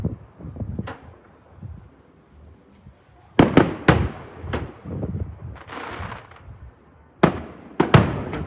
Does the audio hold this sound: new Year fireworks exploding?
yes